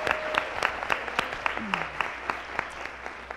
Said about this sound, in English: I want to hear you clapping as well out there in live stream for Miss Julie Pollock